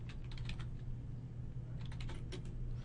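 Someone types a reply comment on a computer keyboard in short bursts of quick soft key clicks, with a pause in the middle, over a low steady hum.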